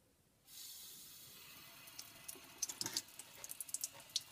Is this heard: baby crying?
no